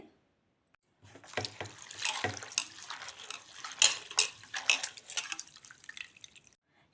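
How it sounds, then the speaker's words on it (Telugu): Amaranth greens being rinsed by hand in a vessel of water, close splashing and dripping with clinks of the pot, rising and falling in irregular bursts. "ఇలా మూడుసార్లు వాటర్లో శుభ్రంగా కడుక్కోవాలి"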